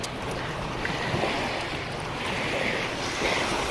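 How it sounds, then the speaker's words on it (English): Small waves stirred up by passing boats lap steadily at the shore of a lake, a continuous close wash of water with light wind and no talking. "The boats are making little lake waves."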